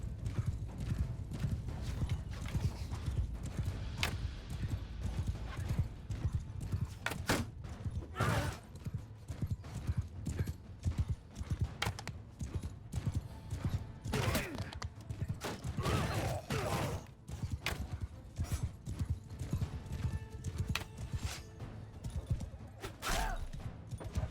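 Horses galloping in a Bannerlord battle with The Old Realms mod, a steady rolling clip-clop of many hooves with occasional whinnies, set against the continuous clamour of combat and a brief shout partway through.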